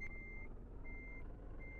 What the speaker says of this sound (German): Oh, da fliegt ein Truck vorbei.